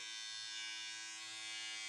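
Philips wet/dry 6+1 electric shaver running continuously with a steady high whirring hum, close and even in level, no voices present.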